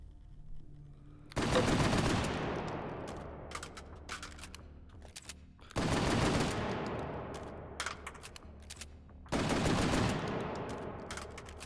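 Gunfire from a gun in the VR video game H3VR, three loud bursts of rapid automatic fire, each followed by trailing echo and sharp clicks and clatter between bursts.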